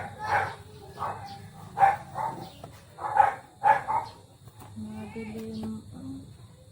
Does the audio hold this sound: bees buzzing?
no